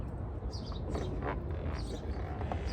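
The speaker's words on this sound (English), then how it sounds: "You hear the birds chirping." Faint high chirps from small birds repeat intermittently, partly masked under a steady broad outdoor noise.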